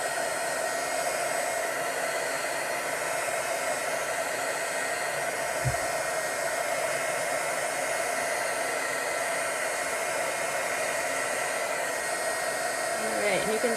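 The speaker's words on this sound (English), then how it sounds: "Just want to be careful not to burn yourself when you're using a heat gun." A heat gun blows hot air onto a WoodUbend moulding for a decoupage candle, a steady, loud, even rushing whoosh that holds alone without a break.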